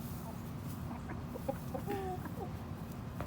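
Chickens and a rooster in a backyard flock, giving a few soft, scattered clucks and short calls over steady low background noise, fairly faint and close by.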